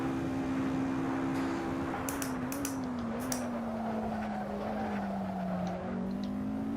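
Race car engines in the Assetto Corsa racing game, with a steady droning engine note that rises and dips slightly as the car drives, plus a few brief clicks or scrapes, continuous and fairly quiet, with no talking.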